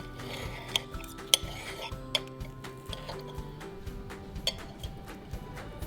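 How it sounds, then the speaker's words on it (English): Knife and fork tapping and clinking against a plate during a vegan meal, a scatter of sharp close metallic ticks at irregular intervals over low room noise and faint background sounds. "This is the first time on Vegan Clone I've had to use a knife and a fork."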